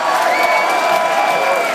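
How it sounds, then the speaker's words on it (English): A crowd at a concert in a theater cheers and applauds in a brief, loud, steady burst of shouting and clapping, dense and close. "Give him a big round of applause."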